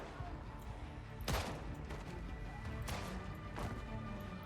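A carbine fires in a video game, with a few sharp, separated shots cracking out over a steady background of game noise; each shot lands as a distinct, moderately loud report.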